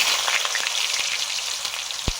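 Potatoes sizzle in hot oil in a pan alongside whole garam masala, cumin, dried red chillies and salt, a steady close crackle with scattered pops and no voices.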